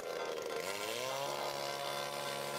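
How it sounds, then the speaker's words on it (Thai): A small two-stroke brush cutter engine whines loudly and continuously while cutting grass in a rice paddy, its pitch climbing as it revs up and then holding steady. "ขั้นตอนที่2ครับนี่เลยตัวช่วยที่ดีที่สุดของเราเครื่องตัดหญ้าครับ"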